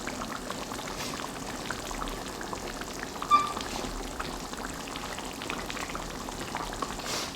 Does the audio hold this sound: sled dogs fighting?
no